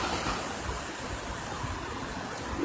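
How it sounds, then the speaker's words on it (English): Steady rain falls outdoors, a dense, even hiss of drops that stays constant throughout with no voices. "It's actually raining right now."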